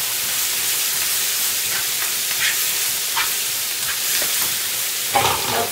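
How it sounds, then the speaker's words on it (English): Ginger and garlic paste sizzles steadily in a hot pan while making mushroom mutter masala, a dense, continuous frying hiss with faint spatters and a brief louder crackle near the end, no voices. "Add ginger and garlic paste."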